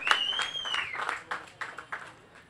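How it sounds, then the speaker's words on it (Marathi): A cricket crowd at the Sindhudurg Chashak 2025 match applauds Sameer's bowling with scattered hand claps and a shrill whistle that rises and falls early on, the clapping thinning into a few separate claps. "मित्रांनो समीरच्या बॉलिंगसाठी आणि शेवटच्या बॉलसाठी जर एकदा जोरदार टाळ्या होऊन जाऊ द्या"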